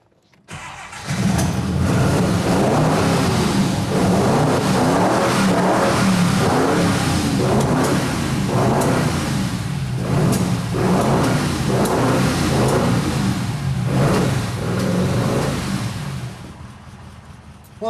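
A production prototype Mirage car engine cranks, catches and starts, then idles and revs repeatedly in loud, close, pulsing bursts for about fifteen seconds before settling.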